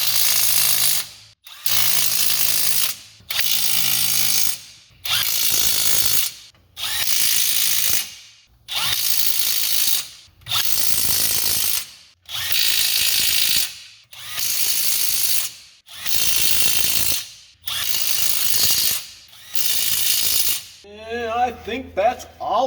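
Ratchet tightening the bolts of a rear axle cover on a Dana M275 axle from a new Ford F250/F350 truck, heard as about a dozen evenly spaced bursts of rapid loud clicking separated by short pauses, alone without talk.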